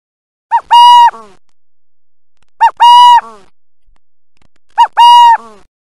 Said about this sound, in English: Owl. And this is what it sounds like.